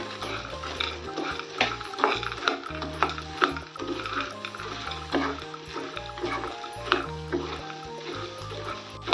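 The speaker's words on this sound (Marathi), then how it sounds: "छान परतून घेऊया मस्तपैकी" Pieces of kadnyachi vadi sautéing in a tomato-onion masala in a pan, a steady stirring and frying clatter with soft sizzle and scraping strokes throughout, close and fairly loud, no voices.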